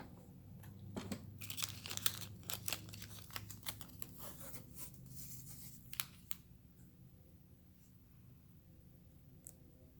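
Scissors snip through washi tape in a series of close, crisp cuts and crinkles, irregular bursts over several seconds, quiet in a calm indoor setting with faint background hum.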